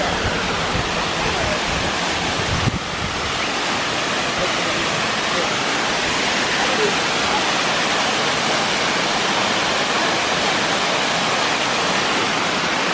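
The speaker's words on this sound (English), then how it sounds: "That's the largest waterfall." Cheaha High Falls in Alabama roars as a steady, loud rush of falling water, a dense unbroken wash of noise that fills the whole stretch without pause.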